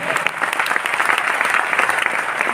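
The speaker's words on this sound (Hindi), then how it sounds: "जोरदार तालियां डॉक्टर लिम के लिए" A crowd at a seminar gives loud, dense applause, with many hands clapping steadily and evenly for a few seconds.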